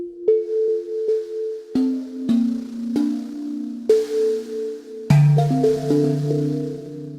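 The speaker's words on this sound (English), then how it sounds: "And fuzz is a fuzz distortion." Fuzz distortion on a Planetary Vibes drum synth, a series of buzzy, gritty tonal hits at an uneven pace, each with a short decay. A heavier, denser fuzzy hit arrives near the end and rings on.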